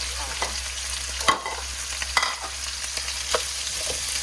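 Fresh sweet bamboo shoots being stir-fried in a Thai curry with pork neck, with soft scraping stirs against the pan over a steady low sizzle, a few sharper clatters of the utensil.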